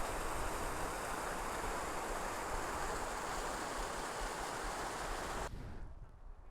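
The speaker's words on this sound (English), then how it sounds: "That's a pretty little waterfall." A small waterfall on a brook near Haweswater in the Lake District gives a steady, even rush of falling water, close and constant, then drops away abruptly near the end.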